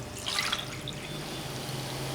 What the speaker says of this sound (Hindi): 1 कप पानी बॉयल लेंगे